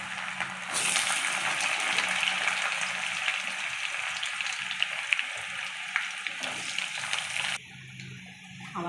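Chopped carrots for fried rice sizzling in hot oil in a pan, a loud steady hiss with occasional stirring clicks, dropping abruptly to a quieter sizzle near the end; no one speaks.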